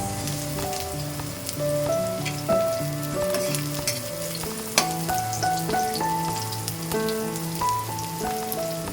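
Onions sautéing in a pan over garlic that has already been browned, for a Filipino ginataang kinayod na santol dish; a steady close sizzle runs throughout beneath prominent background music.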